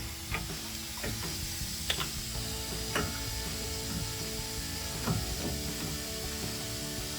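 Ratchet tightening caliper bracket bolts with a 21 mm socket on a Ram 1500 front suspension, with a few sharp clicking strokes over a steady background hum, close and fairly quiet.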